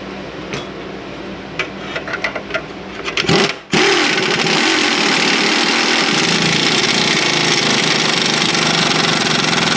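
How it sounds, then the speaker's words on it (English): A power tool, likely an impact or air ratchet, whirs loudly and continuously while driving down a 17mm bolt on the lower ball joint of a 2013 Kia Optima, following a few short clicks and a brief rattle. "We're gonna lock down with 17mm bolt head."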